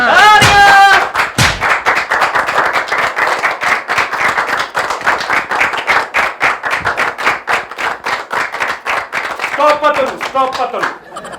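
A group claps rhythmically and fast at a birthday celebration, loud and steady for several seconds, with people talking and calling out at the start and end.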